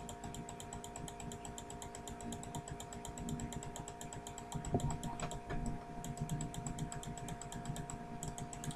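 Rapid, steady mouse clicking while playing the Cookie Clicker computer game, a continuous run of fast clicks that never stops, with faint background hum underneath.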